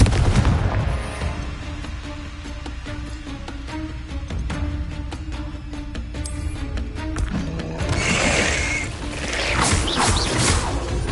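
Confringo fire spells cast in combat in the video game Hogwarts Legacy burst as a rapid series of loud, close explosive booms and cracks over a dense battle din.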